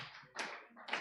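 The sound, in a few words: audience clapping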